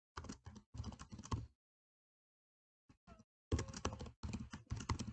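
Quick bursts of typing on a computer keyboard as C# code is entered, close and clear, with a short silent pause midway before the clatter resumes in dense runs.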